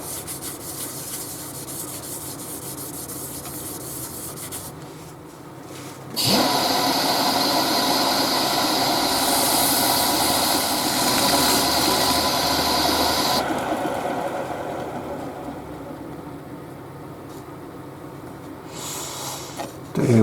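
Wood wax is buffed onto a turned wooden piece coated with sanding sealer, a steady, close rubbing and friction hiss that swells for several seconds amid quieter workshop noise before easing off.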